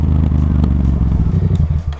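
Kawasaki ER6N motorcycle engine idling and pulling away gently at low revs, a steady close, loud parallel-twin thrum with light mechanical clatter, no talk.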